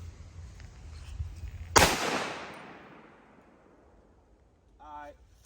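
One sharp gunshot from a 7.5 inch 300 Blackout AR pistol cracks outdoors and then rings away, followed by a brief faint sound near the end.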